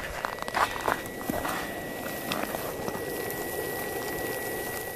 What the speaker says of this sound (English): Wow, that's just boiling like crazy.